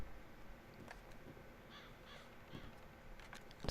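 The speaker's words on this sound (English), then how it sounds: "I can hear a crow." A crow caws a few times, faint and distant, over soft outdoor ambience in the video game Red Dead Redemption 2.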